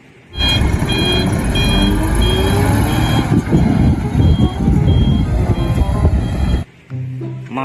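Steady, evenly spaced high electronic reversing beeps from a toy tow truck repeat over a loud, busy background of rumble and toy-like noise, then stop abruptly near the end.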